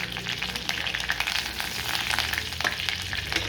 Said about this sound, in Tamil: இந்த சோம்பு நல்லா சிவப்பு ஆகும்படியாக வறுக்கணும்